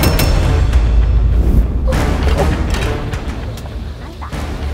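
Wet bamboo bursts with a sudden loud bang in a cooking fire, a broadband boom standing out over a noisy, crowded background where people are talking.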